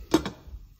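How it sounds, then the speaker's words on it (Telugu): A metal lid set onto a cooking pot of stuffed eggplant curry simmering on a low flame, making two quick close clinks followed by quiet. "మూత పెడుతున్నాను."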